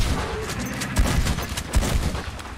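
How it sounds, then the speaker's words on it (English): Dense, rapid gunfire booms in a Red Dead Redemption 2 swamp fight against an alligator, with loud overlapping blasts over a rumbling background and no pause in the clamor. "But with one easy shotgun shot, they go down."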